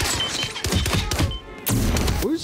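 Bursts of gunfire in the video game Hitman 3 crack and thump in rapid volleys, loud and close, with brief gaps between them.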